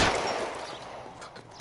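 A single gunshot from a PS4 video game cracks out loud and close, then fades over about a second and a half of ringing reverberant decay.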